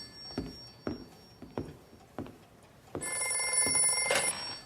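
A telephone bell rings in short repeated bursts in a quiet room, then a louder, sustained ringing with a bright metallic tone takes over toward the end, heard alone with no talking.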